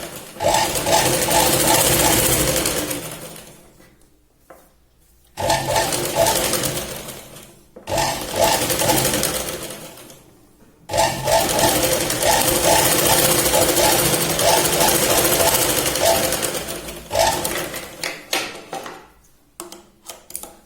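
Sewing machine stitching a katori blouse, fast rattling runs of stitching broken by brief pauses, close and loud, with a voice speaking between and over the runs.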